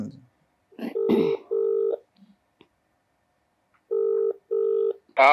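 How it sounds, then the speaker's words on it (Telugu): A phone call's ringback tone while waiting for someone to pick up: two paired bursts of steady tone, a pause, then another pair, with faint handset clicks between and a voice cutting in at the very end. "మన కెప్టెన్ కి ఒకసారి కాల్ చేద్దాం. లిఫ్ట్ చేస్తారో చూద్దాం."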